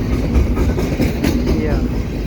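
A CP double-stack freight train rolls past at Pine Beach with a steady, loud rumble and clickety-clack of wheels on rail joints, heard close by from a station platform.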